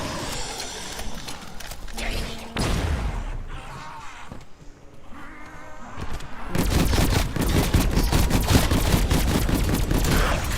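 Rapid bursts of gunfire from a zombie-shooting video game, dense volleys of shots that thin out briefly mid-way and then return louder and faster, near and continuous.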